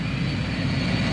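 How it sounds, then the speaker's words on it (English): Steady broadband drone of an AWACS radar plane's jet engines heard from inside the cabin, a continuous rumble with strong low-end hum and no breaks over a short stretch. "Air Force officers aboard an AWACS radar plane search for small aircraft smuggling drugs into the U.S."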